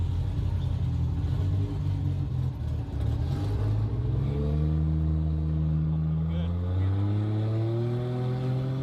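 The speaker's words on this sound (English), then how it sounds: "That's no 2J, that's that sound of that inline 6 Barra." An inline-6 Barra engine in a Ford Foxbody builds from a rumbling cruise into a strong, rising rev with climbing tones, loud and close, with side-exit exhaust.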